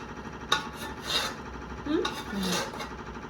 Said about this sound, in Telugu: కడుగుదామా గిన్నెను